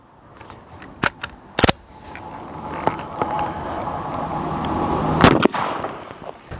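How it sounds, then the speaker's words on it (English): Sharp, loud shots from a .357 Magnum carbine with a 20-inch barrel strike water jugs outdoors, several isolated cracks spaced seconds apart with a rising rumble and splash-like noise between them. "Okay, 357 Magnum carbine. First jug was destroyed."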